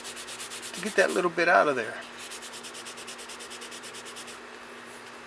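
A sheet of newsprint rubbed over the surface of a painting during conservation work to smooth it, heard as soft scratchy sanding strokes close by. A voice talks partway through, and a faint steady buzz continues afterward.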